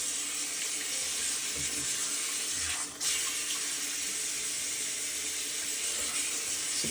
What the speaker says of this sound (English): Some cold water.